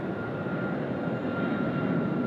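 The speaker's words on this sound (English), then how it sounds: "we've got a 737 Maxi one just departing runway 34 left" A Boeing 737 MAX jet roars steadily as it departs the runway, a loud continuous engine rumble with no voices over it.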